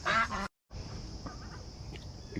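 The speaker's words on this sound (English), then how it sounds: "But the duck's ready to eat, so let's feed them first." Ducks quack and honk in a short burst while being fed on a morning walk, a louder cluster of calls at the start, then a brief silence, then quieter scattered quacks over faint outdoor background.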